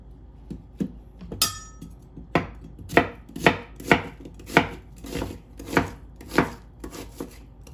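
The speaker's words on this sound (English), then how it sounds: "And I'm just going to slice my onion." Knife slicing green onion lengthwise on a cutting board, a run of about a dozen crisp, evenly spaced chops close to the listener, with a brief glassy clink near the start.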